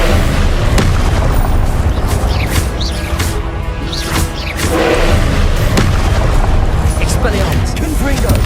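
Blasting-spell explosions boom repeatedly in Hogwarts Legacy amid dense, loud combat, with crashes and impacts layered over one another and voices heard among the noise.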